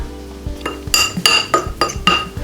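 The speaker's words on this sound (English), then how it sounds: "Now we're just going to mix all of that together" Seasoning and oil stirred together in a bowl with a spoon, giving several close scraping clinks in an irregular rhythm, with quiet pauses between strokes.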